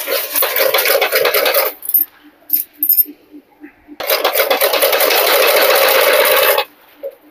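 An electric sewing machine stitches a blouse in two loud, fast runs of rapid whirring needle strokes, separated by a pause filled with small clicks and handling taps, then stops.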